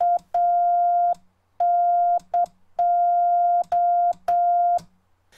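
Morse code CW sent with dots and dashes of nearly equal length, a steady single-pitch tone keyed on and off in clean, close bursts with short gaps and no speech.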